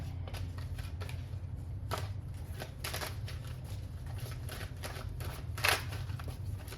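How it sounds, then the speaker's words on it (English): Tarot cards being shuffled close by, a steady run of soft papery riffles and slaps with crisper bursts near the end, heard alone without talking. "let's shuffle some tarot. We're gonna shuffle some tarot. Shuffle some tarot cards"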